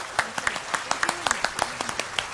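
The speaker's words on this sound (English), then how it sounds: "I would like to give a round of applause to her." A scattered round of applause at a talk with astronaut Captain Sunita Williams, individual claps sharp and uneven, fairly distant and modest in size, with a faint voice underneath.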